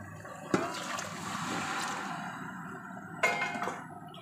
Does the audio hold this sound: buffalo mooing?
no